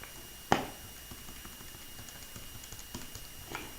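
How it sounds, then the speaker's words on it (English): Short soft taps on calculator keys, one sharper click near the start followed by a few faint scattered presses at an irregular pace, quiet and close with no voices. "Type that in my calculator."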